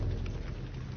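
Rain and rumbling thunder from an audiobook soundscape, a steady wash of falling rain over a low continuous thunder roll, fairly loud and sustained with no voice.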